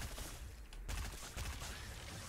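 Gunfire from a silenced legendary gun in the Fortnite video game, a steady dense stream of muffled shots with one brief pause partway through, loud and continuous for the whole stretch.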